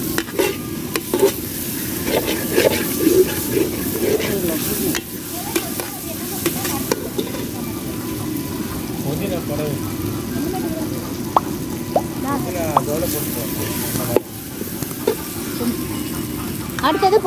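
Mutton biryani masala with chilli and coriander powder frying in a pot on a modern wood stove, steady loud sizzle with scraping stirs, while people talk over it.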